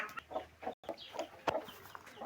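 Three young chicks foraging among grass give short, repeated clucking calls, close by and moderately loud, in an uneven rhythm with brief pauses between bursts and no speech.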